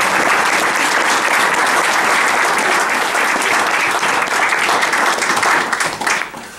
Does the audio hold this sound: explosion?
no